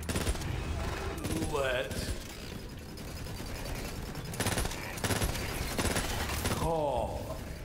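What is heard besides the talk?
gunfire in the video game Borderlands 3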